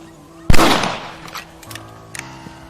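A single loud rifle shot rings out in Red Dead Redemption, a sharp crack with a long reverberant tail. Faint clicks and small sounds follow in the quieter space afterward.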